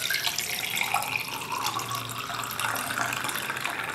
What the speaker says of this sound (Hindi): ठंडा पानी लें।